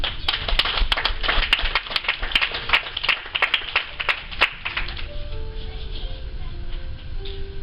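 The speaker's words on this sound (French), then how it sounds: "On acclame ce pour Jésus." Church congregation clapping in a quick, steady rhythm for about four seconds, fairly close and loud, then the claps fade out as sustained keyboard tones take over.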